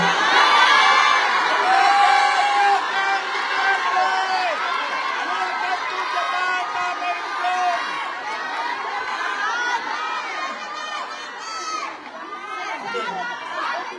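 A large rally crowd in Japan shouts and cheers continuously for a Philippine vice president, a dense wall of excited voices and high whoops that swells and dips but never stops.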